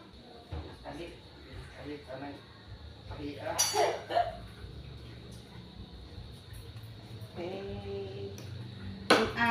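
Utensils clinking against a bowl while food is mixed, a few scattered scraping clinks with a sharper knock near the end, under a voice talking and a steady faint hum.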